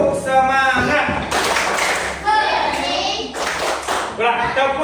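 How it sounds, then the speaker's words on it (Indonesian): Students in a classroom perform a rhythmic spirit clap in quick patterned bursts, close and fairly loud, mixed with a teacher's voice and children's chanting. "Ulang, tepuk semangat."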